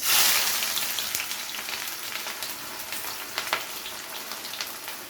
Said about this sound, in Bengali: ফোড়নটা হালকা নাড়াচাড়া করে নেওয়ার পরে এখানে দিয়ে দেবো স্লাইস করে নেওয়া পেঁয়াজ।